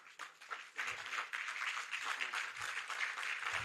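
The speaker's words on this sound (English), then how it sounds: "Let's welcome her with a round of applause." Audience applause at an opening ceremony in Lagos, Nigeria, welcoming a Permanent Secretary; moderate, steady clapping from a crowd that rises after a brief start and continues evenly, with faint voices mixed in.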